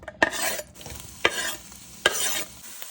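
Onions cooking in bacon grease in a pot, a close sizzle punctuated by three sharp scraping stirs spaced about a second apart, no voices.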